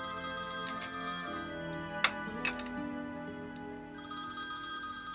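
A telephone rings in a quiet dining-room scene, sounding a few regular electronic bell trills over a low steady background hum, with no talking.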